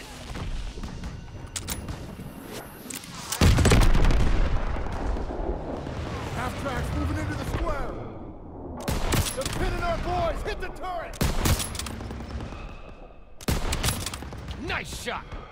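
Bursts of gunfire in Call of Duty WW2 gameplay, with heavy loud volleys and a big blast near the start, then sharp repeated shots in clusters, while players shout and talk over the firing.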